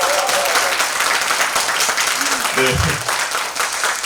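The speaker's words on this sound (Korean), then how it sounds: "이 정도 박수는 오늘 양호합니다" An audience at a lecture concert claps steadily, a dense patter of many hands filling the space, while a voice briefly speaks over it.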